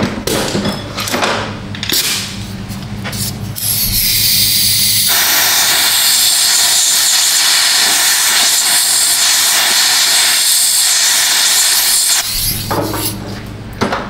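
Compressed air hisses loudly and continuously for several seconds through a Venturi tool during front brake work on a Subaru Legacy, preceded and followed by clanks and handling noises in a garage.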